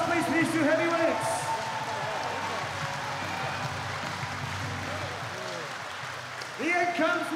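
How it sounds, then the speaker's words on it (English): A crowd at a corporate heavyweight boxing bout applauds the two fighters in the ring, steady clapping and cheering throughout with an announcer's amplified voice speaking over it. "Ladies and gentlemen, a round of applause,"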